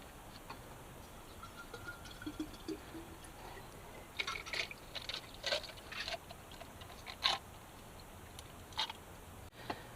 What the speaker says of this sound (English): Steve's filling up more water bottles.